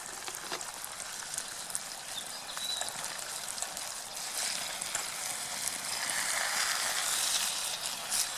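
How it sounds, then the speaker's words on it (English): Minced meat browns in a pan over a campfire while wild camping in Scotland, giving a steady soft sizzle and crackle that swells slightly toward the end, with no talking. "There's the Mince browning away."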